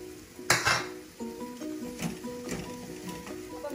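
Mashed boiled potatoes being mixed in a bowl, with a spoon scraping and clinking against the dish in steady, close strokes. There is no talk.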